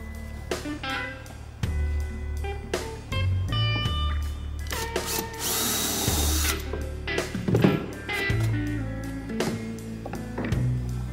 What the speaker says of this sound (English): I'm just going to put probably 2 screws in each board right now